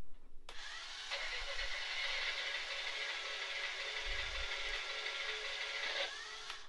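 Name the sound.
combustion engine sound effect from Tardis console prop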